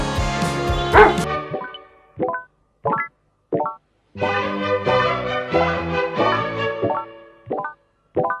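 A dog barks and yips in short bursts with pauses between, close and fairly loud, some barks run together with whimpering tones.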